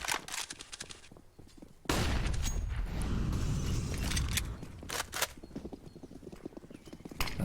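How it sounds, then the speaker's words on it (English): Footsteps in a Counter-Strike match on the Inferno map patter rapidly and repeatedly through the whole stretch, blended with gunfire bursts and in-game noise. "That's a lot of footsteps being heard."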